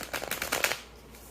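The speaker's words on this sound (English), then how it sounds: "I'm going to just take a brief second and shuffle off camera" Stiff, small tarot cards being shuffled, a run of quick papery riffles and slaps close by for about a second, then falling quiet, with no voices.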